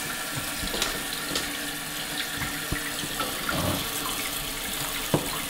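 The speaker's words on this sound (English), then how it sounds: "And I turn the water on." Water runs steadily into a newly installed toilet once the supply is turned on, a constant close hiss and trickle broken by small clicks and knocks.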